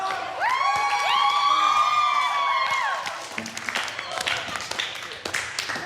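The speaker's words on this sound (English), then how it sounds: "we did all that cheering for that" In a MasterChef Australia studio kitchen, contestants whoop and cheer with rising voices before breaking into a burst of clapping and scattered shouts, loud and close, fading toward the end.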